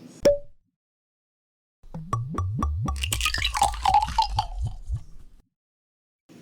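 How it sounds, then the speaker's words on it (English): Lost Ranch Winery Nero d'Avola 2023, a red wine from Temecula Valley, glugs from the bottle into a glass at close range, with a quick click first, then a few seconds of rhythmic gurgling and splashing. "So let's pour a glass."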